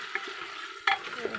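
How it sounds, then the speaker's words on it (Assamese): Crushed garlic and ginger sizzle in oil inside a pressure cooker while a spoon stirs them, a steady close hiss broken by a couple of sharp scrapes. "নহৰুখিনি ঢালি দিলোঁ আৰু এইখিনি ভালকৈ মই লৰাই ল'ম"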